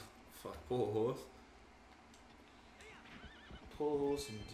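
A horse in The Legend of Zelda: Twilight Princess whinnies twice, loud and close, with faint clattering and soft background sounds between the calls.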